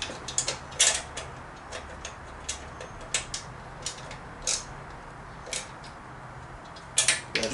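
A ratchet clicks in short bursts while tightening the mounting of a 21-inch wrapped front wheel, sharp ticking pawl strokes at irregular intervals, close and fairly quiet.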